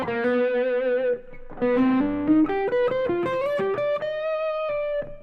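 An electric guitar plays a legato phrase through effects, the smooth, sustained notes gliding upward with a slight distorted edge and a brief dip in the middle, close and steady with no speech.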